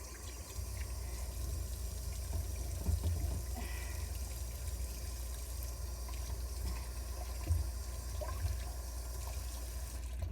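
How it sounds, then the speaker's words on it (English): Water runs steadily from a kitchen tap while hands are rinsed during preparation of a roast turkey with barley and apple stuffing, a continuous close splashing rush with no talking. "And then I gotta rinse my hands again."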